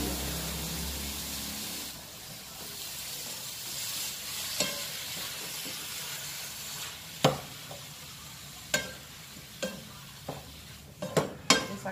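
Onion fries in a pan for lasagna with a steady soft sizzle, and sharp scattered clinks and scrapes of a utensil against the pan grow more frequent toward the end.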